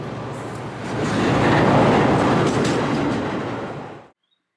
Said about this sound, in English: The railroad provides intermodal freight service by transporting shipping containers.